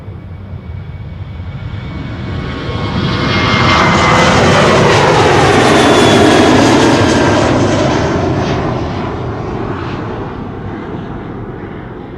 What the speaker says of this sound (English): Right, 737s up next, two back to back.